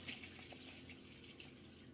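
Water splashes into a cooking pot holding bong paya with ginger-garlic paste, salt and red chili powder, a soft, brief trickling pour heard faintly at close range.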